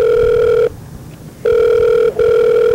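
A telephone ringback tone during an outgoing call: loud, steady electronic tone bursts separated by a short pause and a brief gap, close and clear with no talking.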